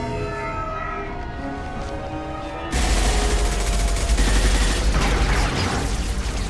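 Heavy gunfire in the video game Mass Effect 2 on Ilium: a dense, loud fusillade of rapid shots and booms erupts partway through, following a quieter stretch of background game sound, then keeps going.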